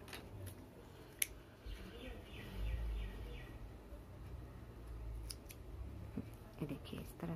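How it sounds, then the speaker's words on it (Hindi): Scissors snipping crochet thread, a single faint click near the start and a few soft snips, set against quiet room noise with faint bird chirps outside. "अब यहाँ से हम ये वाला धागा काट देंगे"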